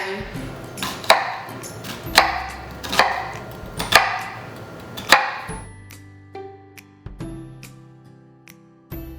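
A knife chops an onion for a vegan Moroccan stew, striking the board about five times in sharp, evenly spaced hits before it stops, leaving faint quiet tones behind.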